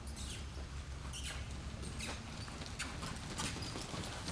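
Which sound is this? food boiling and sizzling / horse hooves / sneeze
horse hooves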